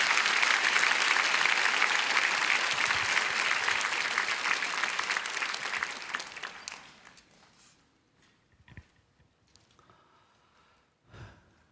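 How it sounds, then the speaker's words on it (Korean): A church congregation gathered for an evening prayer service applauds loudly to welcome the pastor, dense sustained clapping that fades out after about seven seconds into near silence with a few faint rustles. "목사님 나오실 때 힘찬 박수로 환영하며"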